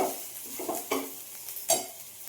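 Onions fry in a pan with a soft, low sizzle, broken by several quick spatula scrapes and stirring clatters, close and fairly quiet.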